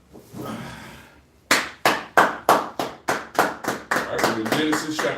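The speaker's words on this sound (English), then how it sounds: "All right, boys, clap it up." A group of men clap in unison during a Kansas City Sabbath service, about eleven sharp, evenly spaced claps that speed into a dense burst at the end, following a stretch of low murmur.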